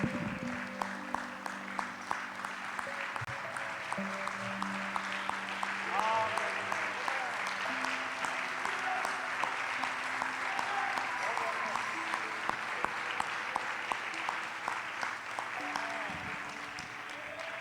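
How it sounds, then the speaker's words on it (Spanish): A church congregation claps in steady rhythmic time during a Spanish-language worship service, with sharp repeated hand claps alongside sustained musical tones and singing for the whole stretch. "Vamos a darle palmas a nuestro Dios."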